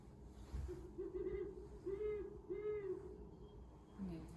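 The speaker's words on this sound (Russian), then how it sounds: "Кто у нас так ухает? Это сова. Сова или филин." Several soft, low hoots from an owl, spaced in a slow rhythm, faint against a quiet background.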